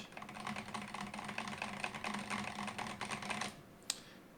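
Rapid keystrokes on a Razer V3 Pro TKL gaming keyboard with foam-damped, quieter switches, a dense patter of close clicks that stops, then a single sharp tap.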